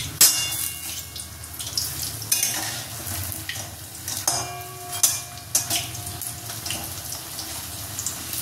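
Raw banana fritters (beguni) fry in hot oil, a close, steady sizzle with crackling bursts and occasional stirring clinks, no voices.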